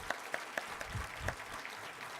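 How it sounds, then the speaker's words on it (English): Audience at a college president's breakfast giving sparse, light applause, a handful of distinct claps at moderate distance, fairly faint, with a murmur of voices underneath. "let's give him a round of applause"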